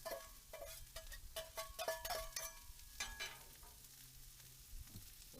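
Chopped onions cooking on a griddle over gas burners, a soft continuous sizzle with spatula scrapes and taps in an irregular rhythm, fairly quiet and without talk.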